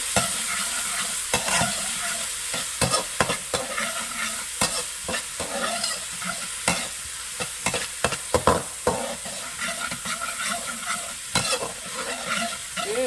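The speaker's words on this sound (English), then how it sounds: "I'm gonna saute this for a little bit." Aromatics sautéing in a pan for stewed coconut fish and shrimp, a steady loud sizzle with frequent spatula scrapes and stirring knocks throughout, no voices.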